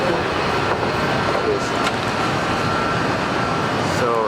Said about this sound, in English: The train leaves.